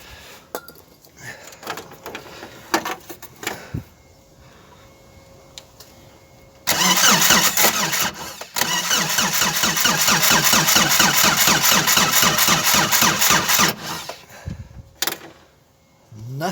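A VW Golf 1 engine doused with starter fluid cranks hard on its starter, a loud, steady rhythmic churn lasting several seconds after quieter clanks and rattles, then cutting out without catching.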